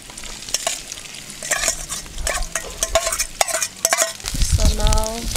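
Minced meat frying and being stirred in a pan for a village feast, a steady close sizzle broken by frequent scraping and clinking strokes of the utensil against the pan, with no talking.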